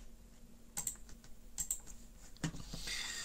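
Quiet bursts of computer keyboard typing, a few quick clusters of clicks separated by short pauses, close by in a hushed room.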